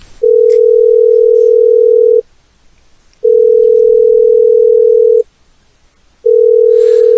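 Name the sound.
telephone dial tone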